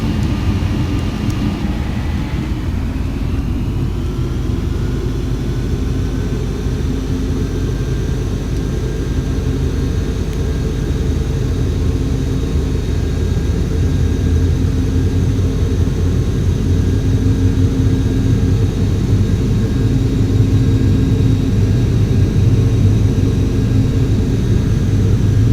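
An airliner in Flight Simulator X rolls down the runway with a loud, sustained engine roar and rising turbine whine, building steadily with no talk.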